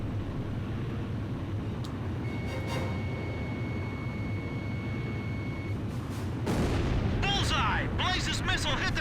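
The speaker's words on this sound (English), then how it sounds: "Blaze's missile hit the target!" A missile strikes its target in Ace Combat 5, a sudden heavy blast cutting in over a steady jet engine roar, with radio chatter and beeps around it.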